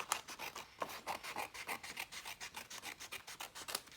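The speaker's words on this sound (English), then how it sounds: "So I'm going to cut that out." Designer series paper being cut with a rapid, even run of close, crisp rasping strokes, each snip short and dry, heard alone and fairly quiet.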